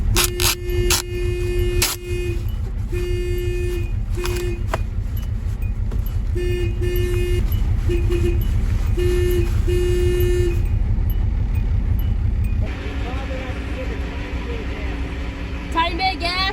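A cheap old ten-dollar car turns over and keeps running with a steady low rumble for about sixteen seconds, with brief tonal beeps on top and a shift in the engine sound near the end, while people talk over it.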